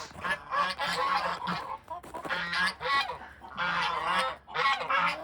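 Farm geese honk and squabble close by in bursts of loud, raucous calls, several birds overlapping with short pauses between outbursts.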